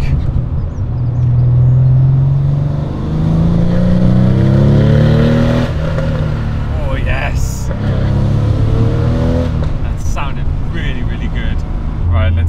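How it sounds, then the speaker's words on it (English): A customized Porsche 993 Carrera 4S with a fully changed exhaust pulls loudly through the gears, its deep flat-six drone rising in pitch, dropping at each shift and climbing again, heard close up from inside the car. "Let's do an exhaust sound check."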